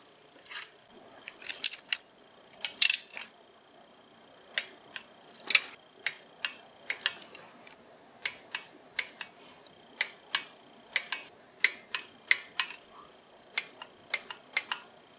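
A ratcheting torque wrench clicks in steady, evenly spaced bursts, close up, as water pump bolts are tightened on a Chevrolet Cruze 1.4 turbo engine; no one speaks.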